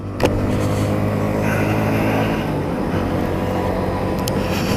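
Sinnis Outlaw motorcycle pulling away in first and second gear, a loud steady engine drone rising slightly as it accelerates, with wind noise and no talk.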